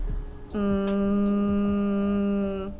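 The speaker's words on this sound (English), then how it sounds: "It's a humming sound." A voice hums the letter M as a sustained nasal "mmm" for about two seconds, steady and close, with faint clicks in the background.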